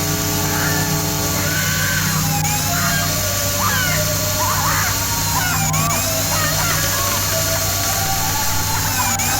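Whirring drill in the horror video game PSYCHO, a steady loud mechanical whine and grind running continuously, with eerie tonal swells and a person talking over it.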